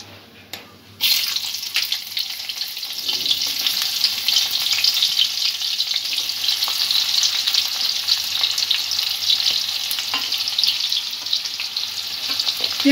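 Chopped onion with grated ginger and garlic hits hot oil and fries for crispy noodles: a sudden loud sizzle bursts in about a second in, then holds as a steady, close crackling hiss with scattered pops.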